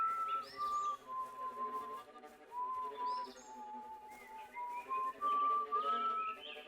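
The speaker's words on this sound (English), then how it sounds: "He smiles and begins whistling." On a middle school stage during a performance of Tuck Everlasting, a person whistles a wandering, tuneful melody, soft and fairly distant, with short pauses between phrases.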